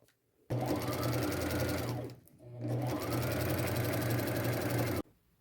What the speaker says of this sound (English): just sew 1/4 inch seam allowance all the way to the very top